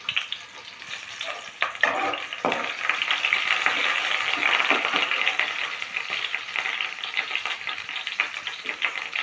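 Onions frying in a couple of spoons of hot tempering oil give a dense, continuous sizzle with crackling bursts and occasional stirring scrapes, fairly close and without speech.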